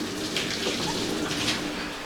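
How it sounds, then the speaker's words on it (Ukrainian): Water splashing and running while windows are washed at home, a steady close wet wash of spray and trickle with no talk. "А ми вікна миємо."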